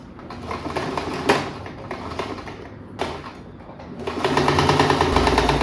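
Sewing machine hemming a skirt hem folded about 2.5 centimeters, a close steady mechanical whir with a couple of sharp clicks, then speeding up into a louder, denser run at the end.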